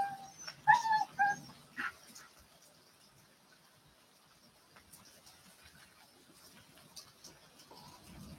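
A dog whimpers and yips close by in a few high, wavering bursts during a thunderstorm, then falls quiet over faint background noise.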